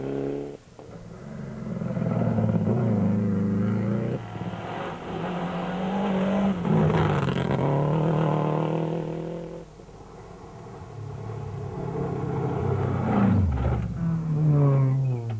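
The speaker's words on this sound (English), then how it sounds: "Both N2 cars make it through unscathed, Du Plessis quicker than Hendrik." Class N2 rally cars race through a stage of the 2005 Tzaneen Rally, engines revving hard and loud with rising and falling pitch as they power past, continuous throughout and without talk.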